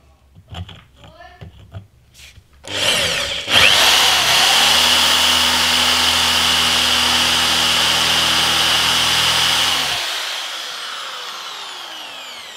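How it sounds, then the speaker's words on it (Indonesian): A Doliz BA670 impact drill with a blunt bit runs loud and steady for about six seconds after brief handling noises, then winds down, with some talk before it starts. "setelahnya kita kembalikan ke bor kita kasih sedikit oli mari kita bor"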